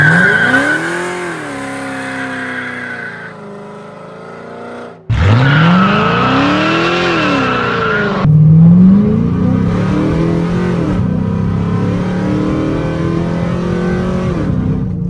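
A 5.7 liter Hemi car with a limited-slip differential launching hard, loud engine revving with rising pitch sweeps across repeated launches and a sharp tire squeal, close and dominant throughout.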